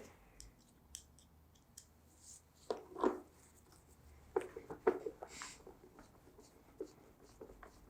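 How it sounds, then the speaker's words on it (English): Screws being hand-driven to mount GD Angel Wings custom tail lights, each screw with a rubber washer or grommet. Faint, scattered scratchy clicks and grinding bursts come close by in a quiet room, with no talking. "Go ahead and put the screws in."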